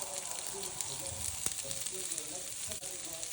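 Broccoli frying in oil in a pan gives a steady sizzle that holds through the clip, with small crackles and a brief clatter near the middle.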